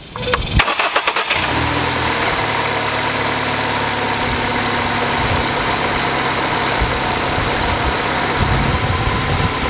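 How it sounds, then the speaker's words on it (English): A 2012 Ford Escape engine with a new belt tensioner cranks briefly, then catches and settles into a steady, loud idle that continues to the end. "I'm gonna go ahead and start the engine"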